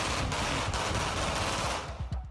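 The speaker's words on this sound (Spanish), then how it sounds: "percute junto a su compañero al menos 30 disparos al aire" A rapid burst of gunshots fired into the air outside a house in Chile, captured in news footage as a loud, dense, crackling volley that fades toward the end.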